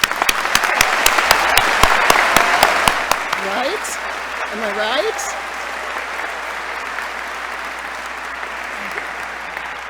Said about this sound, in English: Can we start by giving you a round of applause?